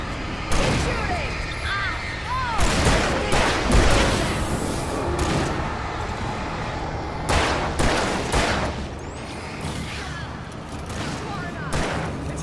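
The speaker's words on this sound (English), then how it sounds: "Keep shooting." Gunfire in the Alan Wake video game, loud repeated shots and bursts spread through a busy, noisy fight scene, with voices talking over parts of it.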